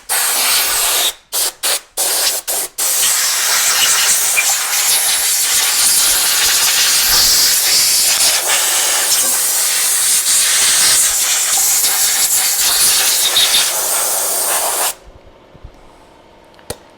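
Coolant sprays and hisses loudly from a C3 Corvette engine during intake work, a close, continuous steaming rush lasting about fifteen seconds after a few short bursts, then cutting off abruptly.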